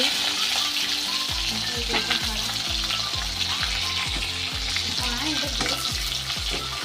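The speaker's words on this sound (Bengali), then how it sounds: "সর্ষে তেলটা ভালোভাবে গরম হয়ে গেলে আমরা পেঁয়াজটা ভালো দেব" Onions sizzling in hot mustard oil over high flame, a loud, steady frying hiss with rhythmic scraping and stirring strokes from a utensil in the pan.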